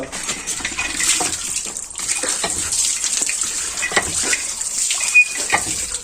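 Water splashing as someone washes their eyes and face, a continuous rush of running water with irregular splashes, close and fairly loud, with no talking.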